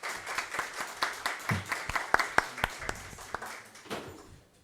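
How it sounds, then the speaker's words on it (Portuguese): A seated audience at a formal meeting applauds a woman named Elaine as she joins the panel, a fairly faint patter of separate claps that swells and then thins out. "Uma salva de palmas para a Elaine"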